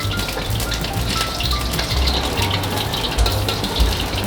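A fried egg sizzles steadily in plenty of hot oil in a pan while hot oil is spooned over its top, producing a loud, continuous, close crackle and spatter with no voices.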